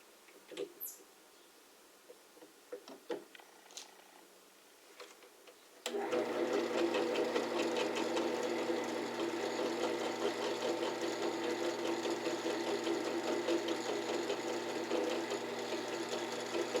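A power drill bores a hole in a screen door: a few scattered handling clicks and taps, then a loud, steady motor whine that runs without a break until the end.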